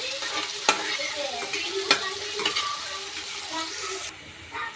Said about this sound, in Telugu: ఇప్పుడు మనం బ్రౌన్ కలర్ వచ్చేదాకా ఫ్రై చేద్దాం